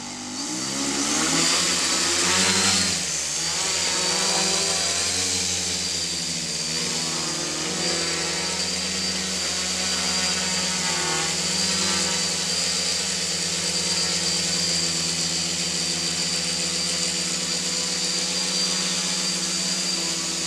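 Motors of a homemade bicopter with a KK2.1.5 flight controller during a bucket launch, a loud steady high-pitched whine that swells early and then holds nearly constant, close by.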